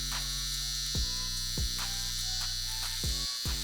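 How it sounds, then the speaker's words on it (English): An electric beard trimmer buzzes with a steady, fairly quiet electric hum, its pitch dipping briefly a few times as it works through the beard. "take a trimmer, start in the center with the trimmer on its side"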